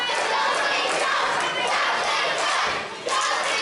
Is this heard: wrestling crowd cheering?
yes